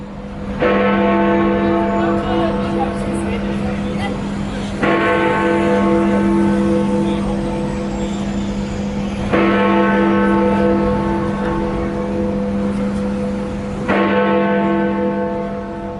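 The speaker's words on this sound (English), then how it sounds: "Big Ben. At the Elizabeth Clock Tower, at the Palace of Westminster, or the Houses of Parliament." Big Ben, the great hour bell cast in 1858 in the Elizabeth Clock Tower at Westminster, tolling four deep resonant strikes spaced about four and a half seconds apart, each blooming loud and humming away before the next.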